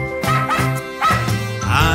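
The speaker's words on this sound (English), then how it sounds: "I have a pet. It's a dog." A dog barks in a kindergarten pets song, giving a few loud, close, yappy woofs in quick succession over a musical backing.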